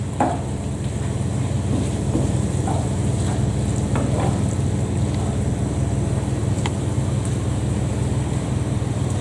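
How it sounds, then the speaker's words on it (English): Chicken and pepper sauce sizzles loudly and steadily in a pan as tinned tomatoes go in, a dense constant hiss with a few faint clinks and stirring scrapes, close by and without talk. "and then I shall add the tinned tomatoes"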